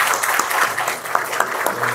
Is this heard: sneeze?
no